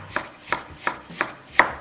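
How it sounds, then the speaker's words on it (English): Vegetables chopped on a board with a knife while preparing a lamb ragu: five evenly spaced, crisp chops about a third of a second apart, close and moderately loud, with no talking. "So you don't have to be perfect with your chopping."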